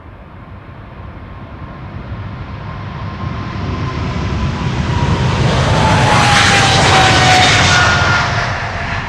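Jet airliner engines at Amsterdam Schiphol Airport roaring steadily and swelling louder as the aircraft approaches and passes close by, with a thin whine riding over the broad rumble and no talk.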